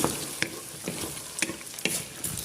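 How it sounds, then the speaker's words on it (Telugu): Vegetables and green peas frying in a pan for bisi bele bath, a dense continuous sizzle with a few quick stirring scrapes, close and moderately loud, no talking. "కొంచెం వేయించుకున్నాం పచ్చివాసన పోయేదాకా వేయించుకుంటే బాగుంటాయి"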